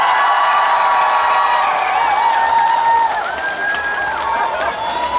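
A large outdoor audience at the Daejeon festival applauds a trot singer on stage. The clapping and cheering form a dense, steady roar, with shouting voices rising over it throughout.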